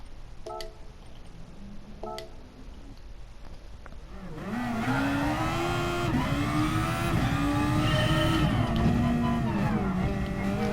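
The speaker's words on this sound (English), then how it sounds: "Second gear. Accelerate straight. Let the downforce build up." A race car in a sim racing game accelerates hard in second gear, engine note climbing steadily and loud after a brief quieter lead-in with faint ticking, no voices.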